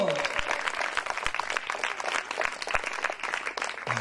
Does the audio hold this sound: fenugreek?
no